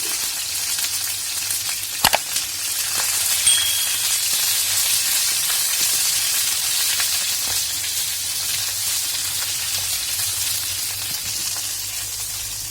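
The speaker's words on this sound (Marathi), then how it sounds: "वरून एक पळी तेल वसायचे तेलामध्ये मिरची चांगली भाजायची" Green chillies fry in a ladleful of oil, giving a continuous close, bright sizzle and crackle with an occasional sharp clack of a utensil early on; no speech over the steady hiss.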